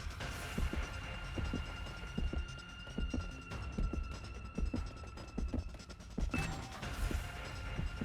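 A heartbeat sound effect from The Hundred Line: Last Defense Academy pulses in a steady, low, throbbing rhythm over a constant hum. It plays alone at moderate volume for several seconds.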